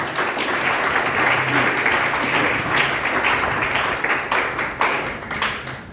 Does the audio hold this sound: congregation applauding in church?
yes